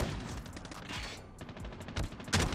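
The ECHO shotgun fires in Call of Duty Mobile amid busy game audio, with repeated sharp shots and a louder close blast near the end, all at a moderate level.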